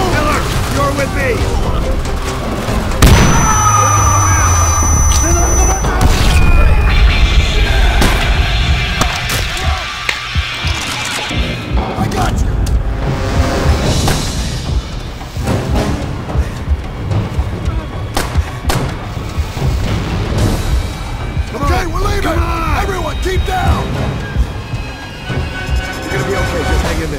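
Demolition charges explode in the video game Call of Duty: World at War amid heavy battlefield noise, with deep booms and rumbling blasts mixed with gunfire and mechanical clatter, and voices speaking over the chaos.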